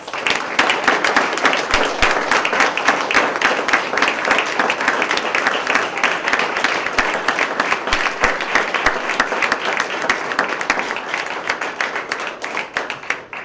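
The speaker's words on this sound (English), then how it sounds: "let's give them one more round of applause" A crowd at a police swearing-in ceremony applauds newly sworn officers, with steady, dense clapping that holds loud and continuous throughout before easing slightly at the close.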